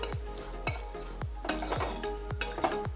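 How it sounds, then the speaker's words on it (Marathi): Rice flour being stirred in a pan for rice kheer makes a regular series of sharp scraping clinks of spoon on metal, roughly three per second, close by over a faint sizzle. "आणि हे थोडंसं हलवून घ्यायचं आहे।"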